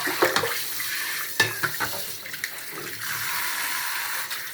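Running water splashes steadily as sweet potato leaves are rinsed at a sink to wash off sand and soil, with close, loud gushing and bursts of sloshing as the leaves are handled.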